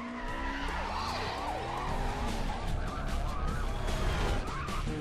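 In Need for Speed Most Wanted, a BMW M3 engine revs and whines through gear changes. Tyres squeal and a police siren wails alongside it in a loud, busy mix of racing game sound.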